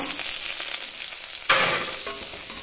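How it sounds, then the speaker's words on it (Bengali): Pieces of rohu fish fry in hot oil in a pan with a steady sizzle, which jumps to a sharper, louder crackle midway as the fish is moved or turned. "এই পাশে দিয়ে সব মাছ এইভাবে ভালো করে ভেজে নেব"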